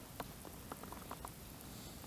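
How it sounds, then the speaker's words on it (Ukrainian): Light rain patters faintly and irregularly during ice fishing on a frozen lake, soft scattered drops against a quiet outdoor background with no voices. "Почав падати дощик, але рибка в мене не кліє."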